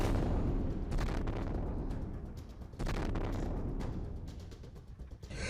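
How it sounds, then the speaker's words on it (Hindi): Bomb blasts and missile explosions in Kyiv, a deep continuous rumble with several sharp bursts and cracks rising out of it, fairly distant and sustained, with no voices. "यूक्रेन की राजधानी अचानक बम धमाकों और मिसाइलों के फटने की आवाज से दहल उठती है।"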